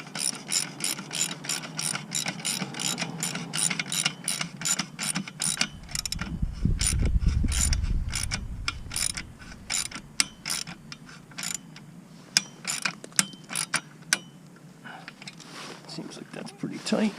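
A ratchet tightens exhaust bolts on a 2005 Yamaha YZF600R Thundercat with a Delkevic exhaust, rapid close clicking in bursts with short pauses and a brief rumble midway.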